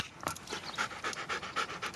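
A dog pants quickly and rhythmically at close range, a run of short, breathy puffs with no talking over it.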